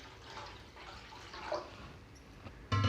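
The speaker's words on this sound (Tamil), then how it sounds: "இதுக்கு தேவையான அளவுக்கு நம்ம வந்து தண்ணி வந்து ஊற்றிக்கிடுங்க" Faint splashing and trickling of water being poured into a cooking pot for sambar, quiet and close, ending with a brief louder clatter.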